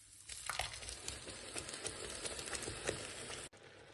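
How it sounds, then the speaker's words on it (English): Broccoli soup with cream bubbles in a pot, a steady fizzing simmer with soft popping that carries on evenly for a few seconds before cutting off abruptly. "Now the soup is getting boiled"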